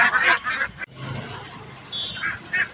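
Lake ducks quacking nearby in a few raspy, honking bursts, with a noisy outdoor background between calls.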